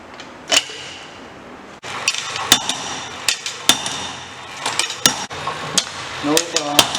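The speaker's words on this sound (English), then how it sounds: "On each face, we will give 75 blows" Heavy metallic blows from a 4.5 kg Marshall compaction hammer dropping onto an asphalt mix sample in a lab, striking repeatedly in a steady, fairly quick rhythm, each a sharp clanking thud, close and loud.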